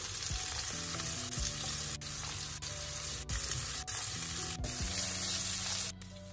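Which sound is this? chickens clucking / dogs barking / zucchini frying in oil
zucchini frying in oil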